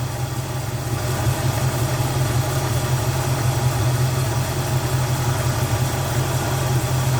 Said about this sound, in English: Nice smooth idle.